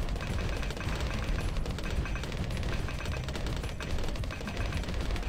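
Rapid, dense explosions and popping crackle continuously in the Bloons TD Battles video game, a busy, unbroken barrage of blasts at moderate volume.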